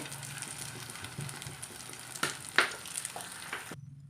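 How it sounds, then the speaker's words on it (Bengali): Potato snacks frying in hot oil in a wok, a soft continuous sizzle with occasional sharper crackles and pops, close and fairly quiet, with no talking. "তেলটা গরম করে নিয়েছি আর এখন সবগুলো একে একে ভাজার জন্য দিয়ে দেব কড়াইয়ে"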